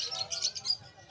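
Pet birds, among them a pastel yellow-face hen, chirp in quick high tweets at the Malabon pet market, close by and fairly faint.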